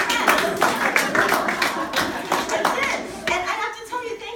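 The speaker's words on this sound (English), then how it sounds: "thank you for clapping" Audience clapping at a stand-up comedy show, a patter of hand claps running throughout and mixed with voices and light laughter.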